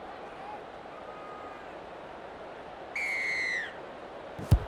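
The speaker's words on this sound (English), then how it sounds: "standing by for the referee's whistle to have us back underway." A referee's whistle in the Rugby League 26 video game sounds once, a clear, steady blast of under a second standing out above a low crowd murmur, followed by a brief thump.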